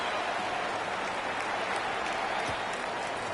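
Stadium crowd noise in a football video game after a field goal, a steady, fairly faint wash of cheering and applause holding evenly throughout with no clear talk.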